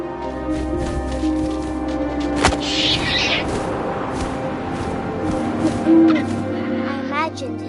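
Owl hoots drift through a gusty wind ambience in the video game What Remains of Edith Finch, with a deep boom midway and background game sound beneath; no one talks.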